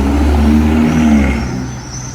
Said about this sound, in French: Il y avait cette Portofino blanche.